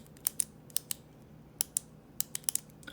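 Sharp, dry mechanical clicks from a retractable pen with a twist mechanism come in small irregular clusters, some paired quickly together, close up against a quiet background.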